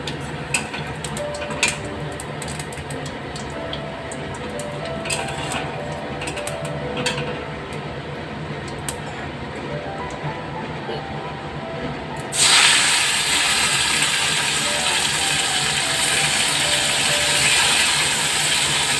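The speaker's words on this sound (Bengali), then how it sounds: "তো ফোড়নের জন্য নিয়ে নিলাম কটা গোটা জিরে।" Whole cumin seeds hit hot oil, first with scattered small pops and ticks over a quiet simmer, then a sudden louder, sustained hiss of frying that continues to the end.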